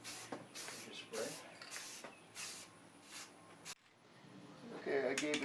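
Short bursts from a spray can coat dining room chairs, each a soft hissing puff in a rough rhythm, fairly quiet and close, ending with a little handling noise.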